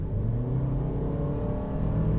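An engine revs and pulls steadily under acceleration during a test drive of a compact sedan, a Honda City 1.2 or Toyota Yaris 1.3, heard as a continuous loud drone from inside the car.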